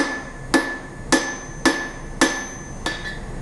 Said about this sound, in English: when you hit the proper spot in the center of the anvil